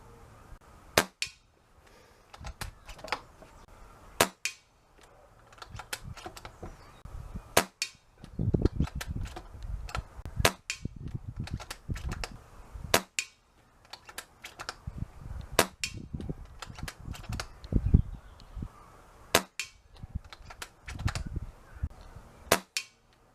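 Rifle shots fired at a paper target on a range, a dozen or so sharp, clean cracks spaced a few seconds apart, each standing alone against a quiet background with faint handling noise between them.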